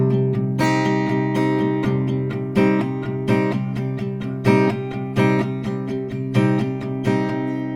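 Acoustic guitar strums a rhythmic chord pattern for a song, repeated downstrokes with accented hits, close and loud with no voice.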